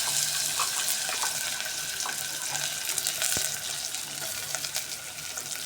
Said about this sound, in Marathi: नंतर मी कढीपत्ता घालणार आहे याच्यामध्ये.